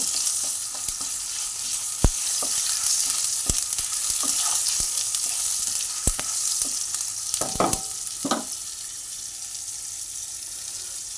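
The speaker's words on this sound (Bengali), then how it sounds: "এবার আমি টমেটো কুচিটা দিয়ে দিলাম টমেটো কুচিটা দিয়ে একটু নাড়ি চাড়িয়ে নেব" Chopped tomato sizzles in a hot pan over a black cumin tempering for a pumpkin, potato and prawn curry, a steady loud frying hiss broken by sharp clicks and scrapes of stirring.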